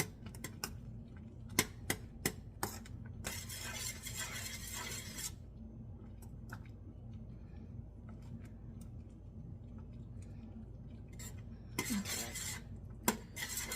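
Spoon scraping and clinking against a cooking pot while ingredients are stirred in over lowered heat, with sharp, scattered metallic taps and bursts of scraping above a steady low kitchen hum, fairly quiet.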